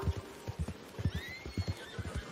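A horse in the video game Red Dead Redemption 2 whinnies over a steady clip-clop of hooves on ground, close and fairly loud, with no talk.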